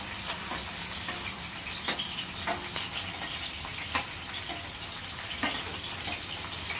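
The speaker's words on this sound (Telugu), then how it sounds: "ఆనియన్స్ మంచిగా కొంచెం కలర్ వచ్చేదాకా వేపుకోవాలి." Onions fry in hot oil for chicken curry with a steady, close sizzle and crackle, stirred now and then with soft scraping clicks, and no talk.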